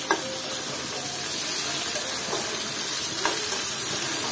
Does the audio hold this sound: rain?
no